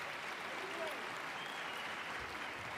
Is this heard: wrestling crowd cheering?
yes